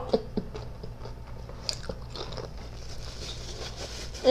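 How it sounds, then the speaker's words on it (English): Close, soft crunching bites and chewing of a BLT sandwich made with turkey bacon, in a quiet room with no talking. "Let me chew my food up real good."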